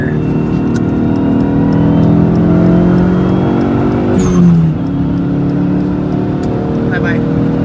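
A boosted SRT-4 car pulls hard, its engine droning steadily up close through the whole stretch, with a brief shift-like dip midway as it passes another car.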